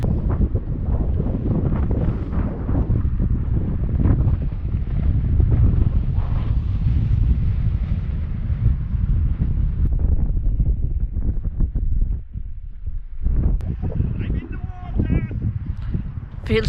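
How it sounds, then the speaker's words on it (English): Strong coastal wind in a rocky cove buffets the microphone with a loud, continuous low rumble that almost covers a voice talking throughout. "It's much windier here, sorry if it's affecting the sound."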